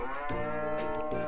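A cartoonish cow moos in the farming game Harvest Moon: A New Beginning, a low droning call with a few slight pitch shifts lasting just over a second, heard alone.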